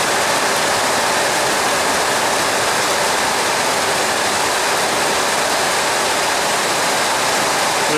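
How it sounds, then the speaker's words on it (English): Water leaking through a carport roof and splashing down onto a parked truck, a loud steady hiss of falling water close by, continuous without breaks and with no talking. "And it's dripping down on my truck."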